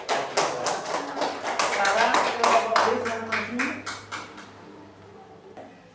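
Classroom students clapping for group A after a group discussion, a rapid patter of individual claps building then tapering off, while a teacher starts speaking near the end.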